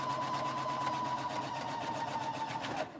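A sewing machine chain stitches pink quilt fabric cut on the bias, a fast even whirring hum of needle strokes close up that runs for about three seconds and stops abruptly at the end.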